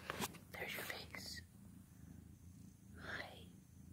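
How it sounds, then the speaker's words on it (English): A house cat purrs with a soft, steady rumble close by, running under a woman's whispered and quiet speech throughout. "You're purring."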